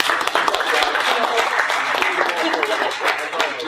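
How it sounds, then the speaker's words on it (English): An audience at a Missouri legislative forum claps in thanks to the panel, giving a dense, fairly loud burst of applause that continues steadily and then eases slightly at the end. "Let's give them a round of applause."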